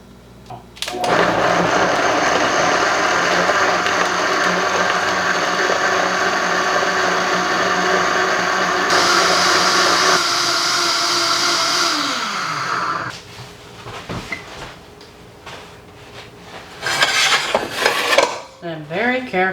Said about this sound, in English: So working in batches, we're gonna put this in our Vitamix and spray it really good.